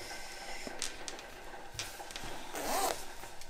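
A clothing zipper is handled while being shortened for sewing, giving faint, brief rasping zips and small clicks against a quiet room, with no voices.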